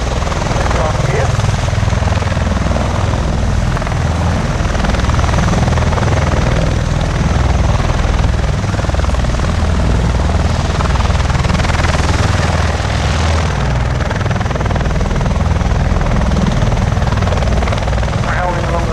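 An Avro Lancaster bomber taxis along the runway at the Royal International Air Tattoo, its piston engines giving a loud, continuous, throbbing roar that holds steady throughout, with no voices clearly audible.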